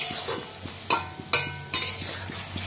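Fried beans, potato and eggplant tipped into a pan and stirred, with soft sizzling under a few sharp metallic scrapes and clacks of a spoon against the pan, close and fairly quiet.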